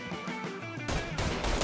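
Machine gun fire in the video game Mafia 3: dense rapid bursts swell in loudness partway through and carry on as loud, continuous gunfire with no talk.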